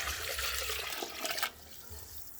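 Liquid for a sea moss shake pours into a blender in a close, steady rushing splash that cuts off abruptly partway through, leaving quiet behind.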